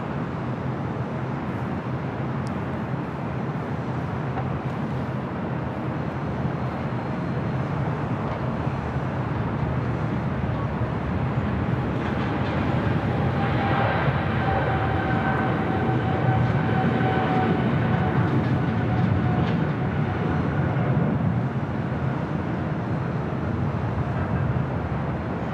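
A cargo airliner rolls down runway 25 right at LAX, its engines a broad, continuous roar that swells slightly over the takeoff roll, heard alone without voices.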